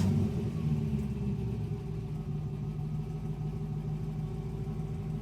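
A 600-horsepower supercharged 2003 Chevrolet Corvette Z06 V8 idles with a deep, steady dual-exhaust rumble, close by and even in volume throughout, with no voices.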